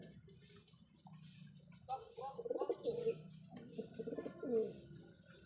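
Pigeons held in the hand give soft, throaty coos and rustles in short bursts, close and fairly quiet.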